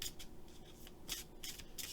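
Color Goddess casting cards are shuffled by hand in a series of soft, quick papery swishes and riffles, close and fairly quiet.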